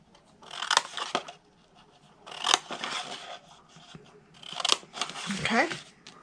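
Scissors snipping paper squares apart for a mini wine bottle box craft, several short crisp cutting bursts close by with rustling paper between them and a voice talking softly.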